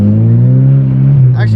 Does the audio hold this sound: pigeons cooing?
no